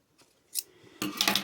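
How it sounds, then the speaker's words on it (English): Scissors snip around the curved top edge of a sewn fabric face mask, a faint first cut followed by louder, close crisp clipping strokes near the end, with no talking. "Around the top, I've cut or clip the curves so it sits flat."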